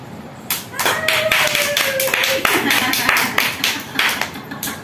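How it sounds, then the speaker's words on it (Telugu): Audience clapping after a blind magician's milk trick with a deity idol, a loud burst of rapid hand claps that begins abruptly and keeps going throughout, with a voice briefly heard beneath it. "పాలు ఫుల్ గా వచ్చేసిన తర్వాత ఖచ్చితంగా మీరు క్లాప్స్ కొట్టాలి"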